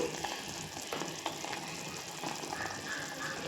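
Coriander powder and garam masala fry in oil for a green peas and potato curry, a soft close sizzle with occasional stirring clicks against the pan, quiet and steady.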